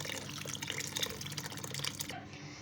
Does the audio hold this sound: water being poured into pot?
yes